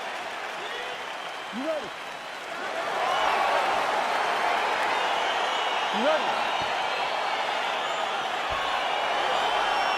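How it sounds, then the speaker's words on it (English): A virtual arena crowd in the UFC 4 fighting game swells into applause and cheering as the bout begins, a broad roar that grows louder partway through while a voice speaks over it. "crowd getting excited as this fight gets underway"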